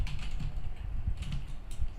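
Keys on a computer keyboard are struck rapidly as a command is typed, a continuous stream of close, light clicks and taps with no voices.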